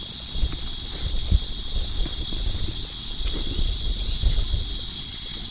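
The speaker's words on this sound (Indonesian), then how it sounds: "Suara tonggeret." Cicadas on a mountainside shrill in a loud, steady, unbroken drone that carries through the whole stretch, with faint low rumbles of wind or distant movement underneath and no talking.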